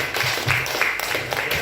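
An audience at a diabetes testimonial gathering applauds, a brief, dense burst of clapping from many hands, fairly close and steady throughout.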